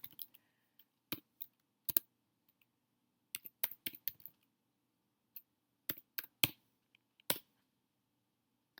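Someone types a username and password on a computer keyboard in a quiet room: scattered bursts of crisp key clicks with short pauses between groups, close and fairly soft.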